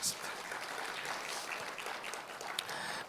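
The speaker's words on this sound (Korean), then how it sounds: "박수하겠습니다." Applause from a congregation at a church opening worship service of a hospital mission retreat, soft and fairly distant, a steady patter throughout.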